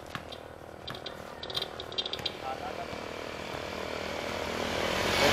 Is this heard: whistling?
no